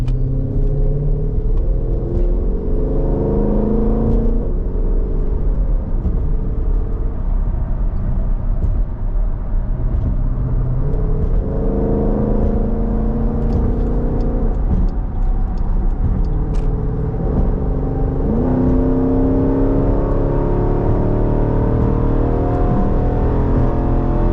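A 2020 Jeep SRT engine rumbles steadily from the driver's seat while driving, a loud continuous drone with gentle rises and falls in pitch as it accelerates and eases off, no talking.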